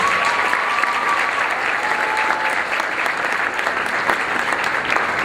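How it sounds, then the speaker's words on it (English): Crowd applause at a forum event, a sustained, even wash of many hands clapping in a large room, loud and continuous with a faint tone running beneath. "Let's give Dr. Perry another round of applause."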